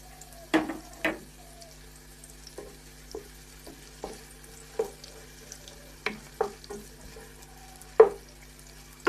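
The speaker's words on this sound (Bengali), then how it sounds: "ভালোভাবে নেড়ে চেড়ে ভেজে নেব।" Onions fry in oil with whole spices for mutton bhuna khichdi while a utensil stirs them, giving a quiet low background with about a dozen separate sharp scrapes and taps spaced out across the clip, no talk.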